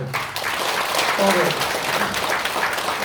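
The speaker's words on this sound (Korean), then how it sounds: "우리 박수 한번" Attendees at a Korean Buddhist lay-missionary training lecture clap for the eldest member of the class, a thick, sustained applause with a brief tonal voice rising over it midway.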